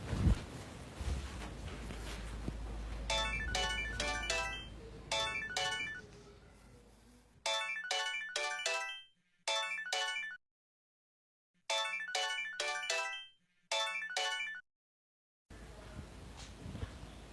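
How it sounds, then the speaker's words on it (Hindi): A phone ringtone rings in a domestic drama scene, a bright repeating melodic tone in bursts that stop and restart several times, heard alone with low background hum at first and no talking over it. "हद होती है हमजा, आधे घंटे से फोन कर रही हूं मैं तुम्हें"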